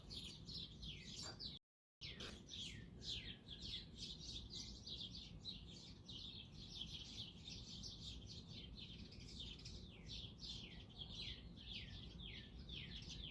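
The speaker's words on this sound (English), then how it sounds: "Birds." Many birds chirp and tweet in quick, repeated bursts of a morning outdoor chorus. The sound is steady and fairly close, with one brief dropout near the start.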